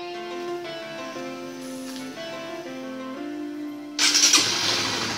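A motorcycle switched on with a virtual Bluetooth key: a soft electronic whine and a brief starter crank, then the engine catches with a louder burst and settles into a close, steady idle.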